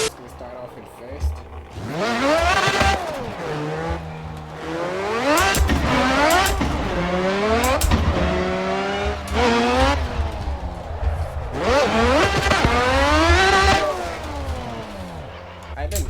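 A VDC car in a driving video game on an ESDA track, engine revving up and down in sweeping pitch rises with squealing tires, loud and continuous, with a person talking over it.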